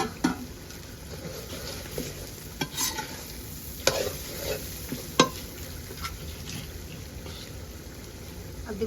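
Bay leaf dropped into hot oil in a home kitchen, a steady soft sizzle with scattered sharp scraping and stirring clicks from a utensil against the pan, fairly close and moderate.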